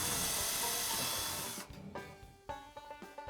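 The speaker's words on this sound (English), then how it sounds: "we'll drill a hole" A power drill bores a hole into a wall for closet standards, whining loudly and steadily for about a second and a half before stopping, followed by a few short knocks and handling sounds.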